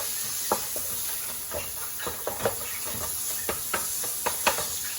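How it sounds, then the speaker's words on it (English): Ground beef browning in a pan for Philly cheesesteak sloppy joes gives a continuous sizzling hiss, broken by repeated scraping stir strokes and small clacks of a utensil against the pan. "we just want to brown our ground beef"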